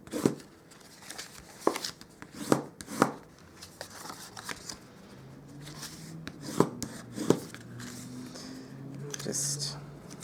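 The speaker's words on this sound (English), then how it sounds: "We will now grab our bone folder, and we'll just burnish all of those score lines" A bone folder burnishes paper score lines on a butterfly box, giving soft quick rubbing swipes and taps in uneven bursts, close and quiet, with a voice talking faintly underneath.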